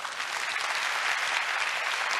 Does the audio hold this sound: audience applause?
yes